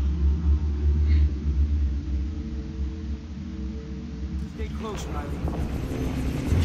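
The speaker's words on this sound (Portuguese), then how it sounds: "Ah, vamos de helicóptero." Helicopter flight in the video game Far Cry 3, a steady low rotor rumble running throughout, with a brief clatter of other game sounds near the end.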